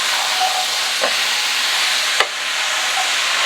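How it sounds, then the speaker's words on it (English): Soaked red beans are stirred in a pot over a loud steady hissing sizzle, with a couple of soft scraping strokes and a brief knock of the spoon against the pot. "Give this a little stir."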